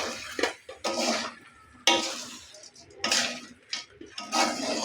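Mutton biryani is stirred in a pot: a series of uneven scraping, clattering bursts of a spoon against metal, several seconds apart, close and moderately loud, with quiet gaps between.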